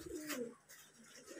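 A single pigeon gives a soft, low coo close by, followed by quieter murmuring coos in an otherwise calm setting.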